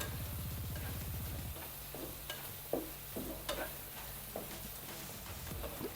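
Capsicum stir-fried briefly in a pan, with a soft steady sizzle and scattered clinks of a spatula against the metal, fairly close.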